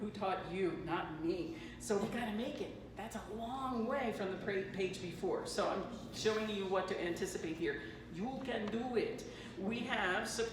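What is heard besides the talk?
None of the usual background noises is heard.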